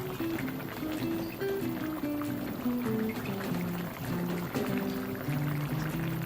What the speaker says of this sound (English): I'm adding some water to the pumpkin.